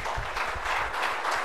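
Audience clapping loudly at a birthday gathering, a short dense burst of applause filling the space, steady and close.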